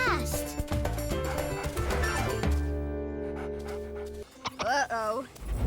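A cartoon dog pants and whimpers during a chase after a squirrel, with layered music and sound effects, then a series of rising yelping whines near the end.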